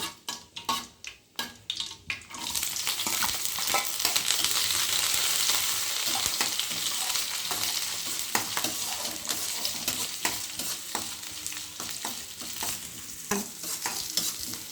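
Onion, green chili and curry leaves sautéing in a hot pan for chana masala, a loud steady sizzle with repeated spoon scrapes and clinks against the pan after a few sharp tosses at the start.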